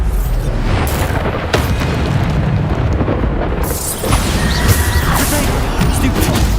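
Bombarda explosion spells go off in Hogwarts Legacy, loud booming blasts and crashing debris forming a dense, continuous roar close up, with a voice faintly present beneath.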